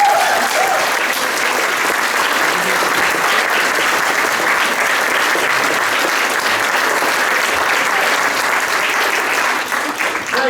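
Audience at a theatre performance of The Tempest applauding, a loud, dense and steady wash of clapping from a crowd that lasts throughout and fades slightly at the end.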